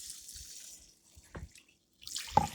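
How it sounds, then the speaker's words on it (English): Broth pours in short splashing bursts into raw rice in a baking dish, a brief trickle, a pause, then a louder gush, heard close with no talking. "And then you're going to want to pour in your broth."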